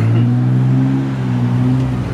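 2011 Joyner Renegade four-seater 4x4 UTV with an EFI engine, idling loud and close with a steady, even drone throughout and no talking.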